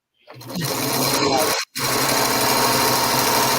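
A sewing machine whirs at a steady, high-pitched hum, starting up, cutting out for a brief moment, then running on continuously, close and loud.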